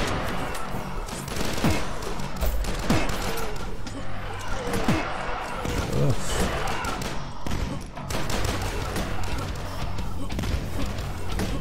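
Gunfire in the retro shooter Dusk, with dense bursts of shots and thuds crackling steadily through a busy, noisy game mix over most of the stretch.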